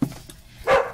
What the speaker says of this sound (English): sorry if you just heard my dog bark.